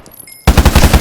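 Rapid automatic gunfire from a gun in the Minecraft video game, in a zombie soldier survival setting. After a quiet start it bursts in loud, with about a dozen evenly spaced shots in quick succession.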